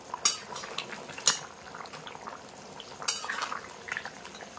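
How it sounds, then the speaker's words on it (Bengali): A metal lid comes off a pot of simmering jackfruit and chicken curry with three sharp metallic clanks spread apart, over faint low bubbling in a quiet kitchen. "এখন আমি ঢাকনাটা খুলে দেখবো কেমন হয়েছে, কেমন সেদ্ধ হয়েছে"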